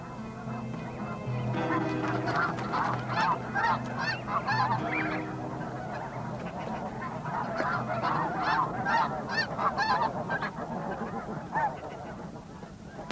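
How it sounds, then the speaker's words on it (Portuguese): Geese honk repeatedly on the open tundra, a flock calling in overlapping bursts that swell and fade over a low background rumble. "Os gansos que brigaram entre si quando construíam seus ninhos esquecem agora suas diferenças"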